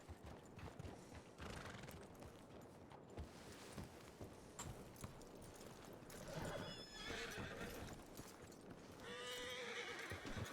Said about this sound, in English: That horse has been there forever.